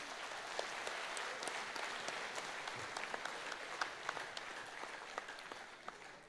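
Applause from an audience filling a large auditorium at Shanmukhananda Hall in Mumbai during a Dare to Dream event, steady and dense clapping that holds for the whole stretch at a moderate, slightly distant level.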